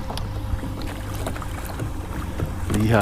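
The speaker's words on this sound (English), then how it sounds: "wind's blowing me ashore here" Wind rushing over a small fishing boat on a lake, a steady low buffeting roar of wind noise with faint water and hull knocks, ending in a short burst of someone talking.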